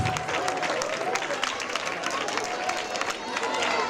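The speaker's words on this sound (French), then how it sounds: "On applaudit s'il vous plaît." An audience at an honours ceremony for top students claps for the five best pupils of the sixth-grade class, a steady crowd applause with distinct hand claps and a murmur of voices underneath.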